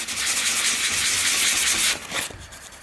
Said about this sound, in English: Give it a very light sand.